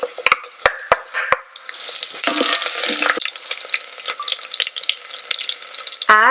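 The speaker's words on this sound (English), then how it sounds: "the oil is hot, add cumin and mustard seeds and then add curry leaves and then add green chilies." Cumin, mustard seeds, curry leaves and green chilies hit hot oil in an Instant Pot, first with several sharp pops and crackles, then a dense loud sizzle, ending in a brief clatter.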